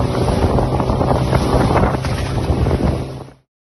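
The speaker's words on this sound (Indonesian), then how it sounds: "saya dan keluarga saya diantar menggunakan perahu untuk menuju suatu pulau" Boat carrying a family out to an island off Lombok, a steady broadband engine and water rush with heavy wind buffeting the microphone, continuous and loud throughout before cutting off abruptly at the end.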